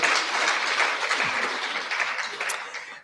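A studio audience applauds at the close of a panel discussion on race, politics and leadership: dense, steady clapping that fades slightly toward the end.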